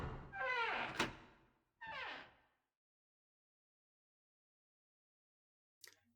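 A door opening in the video game 999, two heavy sliding thunks in quick succession, fairly close and loud, followed by silence and a short faint click.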